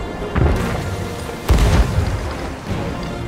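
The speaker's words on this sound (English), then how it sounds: "I'm just gonna shoot some cannons." Ship cannons firing during a galleon battle in a video game: three heavy booms, the loudest in the middle, each with a rumbling tail, standing alone without talk.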